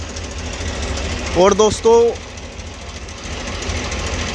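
A Mahindra 265 DI XV Plus tractor with power steering runs at a steady idle, a low, even engine rumble throughout, with someone speaking briefly over it partway through.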